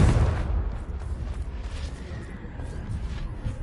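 A Confringo blasting spell explodes in Hogwarts Legacy as a heavy, rumbling boom that starts loud and decays into a sustained low roar across the whole short stretch.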